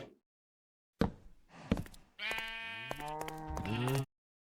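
Sheep in the Minecraft video game bleat in a quick series of loud, wavering cries after a couple of short knocks, the calls close and unaccompanied by talk.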